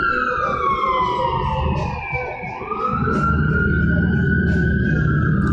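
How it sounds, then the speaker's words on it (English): An ambulance siren passes along a street, loud and close, its wail dipping in pitch midway as it goes by and then carrying on over busy street noise. "ambulance just passed by"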